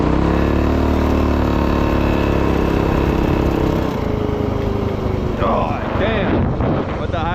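A mini quad with a swapped 224cc engine runs with a slight rattle, its steady buzzing drone close by before it fades and other sounds take over toward the end.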